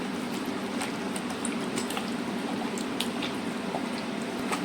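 Chicken is mixed with vinegar and soy sauce marinade, giving a steady wet squishing and sloshing with faint clicks, close and constant and with no talking.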